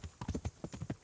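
Horse hooves clip-clop in a steady, quick rhythm of about ten soft strikes, close and fairly quiet, with no voices over them.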